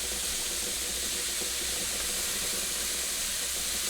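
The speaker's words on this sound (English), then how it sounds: "Our bacon is now cooking" Bacon cooking in a hot pan with fat rendering, giving a steady, dense crackling sizzle that holds loud and even throughout with no talking.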